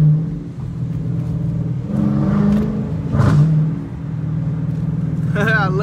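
A Dodge Challenger R/T engine in track mode revving from inside the car, a rumbling roar rising in a couple of surges with a whirring pitch climbing at the end, and a person talking over it.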